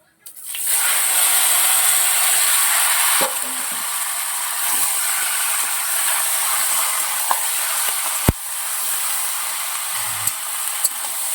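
Marinated meat hits a hot cooking pot with a loud, steady sizzle that starts abruptly and holds for about ten seconds, broken by a few faint clinks of stirring.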